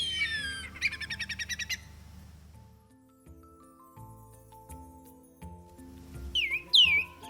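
Whistling kites call in the Australian outback, first in rapid descending whistles and then in a quick chattering series. They fall quiet while a soft backing melody plays, then return near the end with sharp, loud whistled calls.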